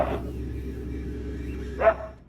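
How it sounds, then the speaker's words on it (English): A family dog on a farmhouse security camera in Pinecrest, Florida, gives two short barks, one at the start and one near the end, over a low steady hum, fairly distant. "A security camera from a farmhouse in Pinecrest, Florida, recorded the family dog barking at a creature that looked exactly like it."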